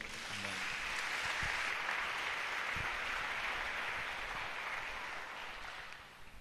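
A church congregation applauds in a long, steady wash of many clapping hands that fills the space evenly and fades slightly toward the end, with no other sound standing out.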